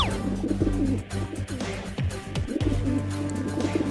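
Soft, low cooing from several cartoon pigeons close by, overlapping in repeated throaty calls, with light rustling in the background.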